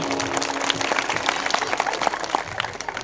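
Audience applause at a live Shivshahir performance in Yelnur, a dense, steady wash of clapping from a crowd, moderately loud and continuous for about three seconds with no one speaking.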